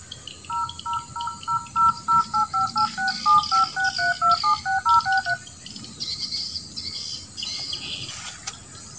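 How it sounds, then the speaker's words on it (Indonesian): Telephone dialing tones: a rapid run of about fifteen evenly paced two-tone beeps, loud and close, over a faint background hiss, followed by a few seconds of quiet room noise. "Wah, aku telepon dari Pak Hajian."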